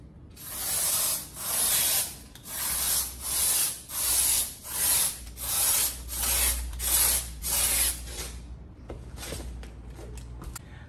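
Pressurised hissing sprays from a 750ml can of PU expanding foam, about nine short bursts in a steady rhythm, close and fairly loud, then stopping into a quiet room with faint handling noise.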